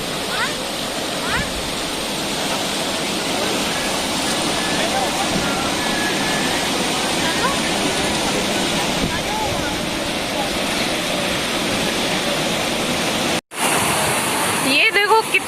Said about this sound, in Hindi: और ये रही पीछे नदी, ब्यूटीफुल